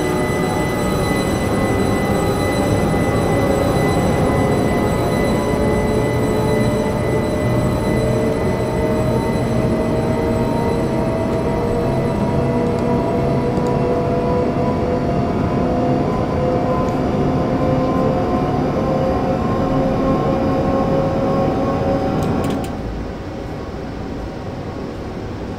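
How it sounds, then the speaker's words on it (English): Simulated train running on the South London to Brighton line in Train Simulator 2017, a steady loud rumble with sustained traction whine tones that drops slightly in level near the end. "As soon as that train arrives at Brighton station, then we should be good to go"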